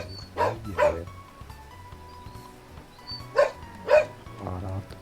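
Dogs bark in two pairs of sharp, close woofs, with a gap between the pairs, over a low background hum and faint electronic tones.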